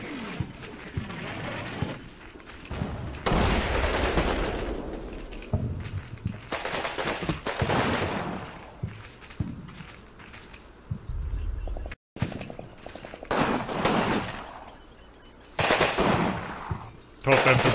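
Infantry scouts firing in the WWII strategy game Combat Mission, with bursts of machine-gun and rifle fire that come and go in waves, some loud and close, and a voice talking between them.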